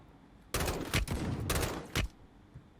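A powerful gun firing explosive rounds in Warzone Mobile: two close, loud bursts of rapid booming fire with short gaps, ending in a sharp final shot before quiet.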